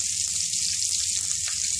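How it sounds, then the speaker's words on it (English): Steady crackling sizzle of peppers and onion frying in hot oil, close and continuous with a broad hiss, no voices. "I'm going to just place it in there, let it"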